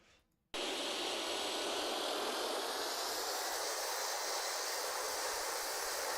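A simulated Chinook RC helicopter flies in the Phoenix RC simulator game, its rotor and engine noise cutting in abruptly after a moment of quiet, then holding as a steady, loud, even whoosh throughout.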